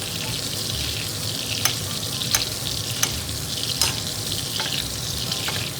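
Constant crackling sizzle of pork chops frying in hot butter, close up, with occasional light ticks from a spoon stirring or basting.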